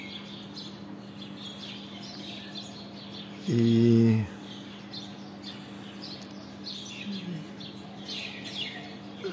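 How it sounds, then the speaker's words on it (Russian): Birds chirp outside a balcony in the morning, with scattered faint tweets at a distance over a steady background hum, and a brief short voice partway through. "слушаю птиц по утрам."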